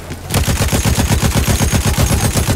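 Rapid, loud gunfire from the Battlefield 1 video game: a sustained burst of evenly spaced shots after a brief quiet start, close and unbroken for the rest of the stretch.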